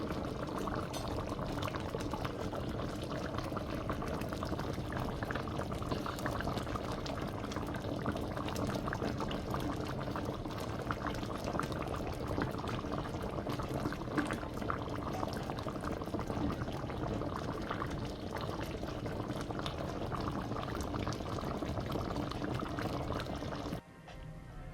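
Jamaican coconut dumplings simmer in coconut milk gravy in a pot, a steady bubbling boil with soft liquid gurgles, continuous and close, with no talking.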